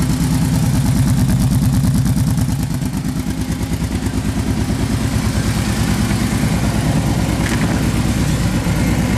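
A small engine on a truck, four-wheeler or tractor idles steadily after being given choke, a loud, even, rapid clattering pulse that holds smooth and constant throughout.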